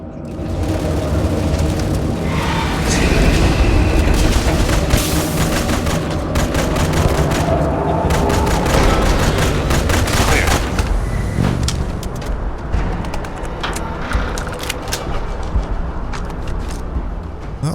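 Sustained gunfire and explosions in the space game Starfield, dense rapid shots and booms filling the whole stretch, loud and continuous, with a voice talking over parts of it.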